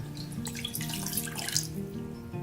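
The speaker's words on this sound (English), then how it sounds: "Pouring in the water into the saucepan and letting it boil." Water pouring steadily into a saucepan before boiling oats, a continuous close splashing stream with no talk over it.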